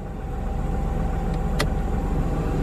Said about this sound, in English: You can probably hear the fan.